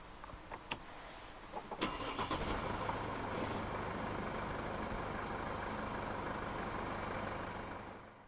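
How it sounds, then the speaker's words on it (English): A 2013 Mercedes-Benz GLK 220 CDI 4MATIC diesel starts from the push button: a few clicks, a short crank, then the engine catches and settles into a steady, rumbling idle that fades slightly at the end. "press the start button to the right of the steering wheel"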